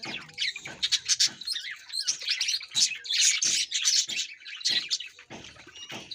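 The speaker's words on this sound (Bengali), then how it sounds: "দেখুন কত সুন্দর গোসল করছে আপনাদের পাখিগুলো" Several pet birds being bathed in cold winter weather chirp and tweet in bursts of quick, bright calls, close and fairly loud, with brief pauses between.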